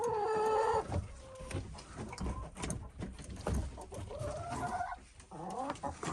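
Hens cluck and squawk close by in a rapid, uneven chatter, with a few louder calls breaking through a busy winter coop.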